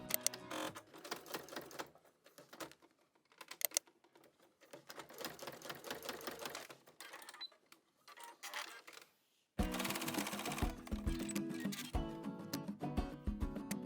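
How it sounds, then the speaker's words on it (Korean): A sewing machine stitches leatherette for a card wallet in several close bursts of rapid needle clatter separated by brief pauses, with a louder, steadier run near the end. "재봉해서 고정할게요."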